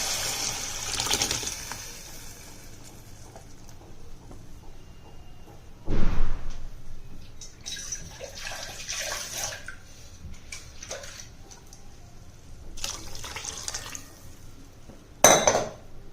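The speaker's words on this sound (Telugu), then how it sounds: "ఆ వాటర్ అంతా వేసేసుకోవాలి. పప్పు, చింతపండు వాటర్." Lentil and tamarind water splashes and pours into a pan in short bursts, with metal clinks of utensils and a couple of louder splashes partway through and near the end.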